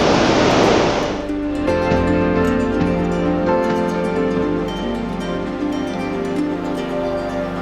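Irupu Falls in monsoon flood, a heavy continuous roar of rushing water that starts with a loud close burst and then settles into a steady dense rumble.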